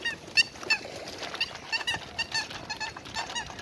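Large geese honk repeatedly in loud, uneven bursts near the listener, with other waterfowl close by and no talking over the calls.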